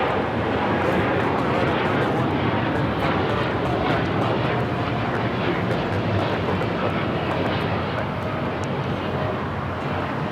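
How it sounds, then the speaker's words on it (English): An American Airlines Boeing 787-8 Dreamliner on its takeoff roll at LAX, bound for Tokyo Haneda, a steady loud broadband jet engine roar sustained throughout with no break. "27 taking off to Tokyo, Haneda on the 787-8 Dreamliner"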